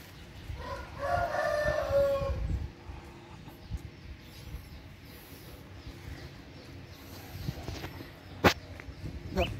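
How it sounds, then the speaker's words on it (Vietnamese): A Mơ breed rooster crows once, a clear drawn-out call near the start, followed by quieter farmyard rustling, scratching footsteps and an occasional sharp knock among the chickens. "Mình chỉ nuôi gà mơ thôi"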